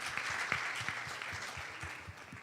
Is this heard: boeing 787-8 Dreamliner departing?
no